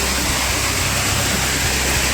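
A mountain waterfall near Harishankar Temple roars steadily as a dense, unbroken wash of falling water, loud and close, with no voices.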